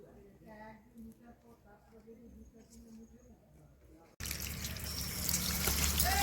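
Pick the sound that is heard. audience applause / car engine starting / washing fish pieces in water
washing fish pieces in water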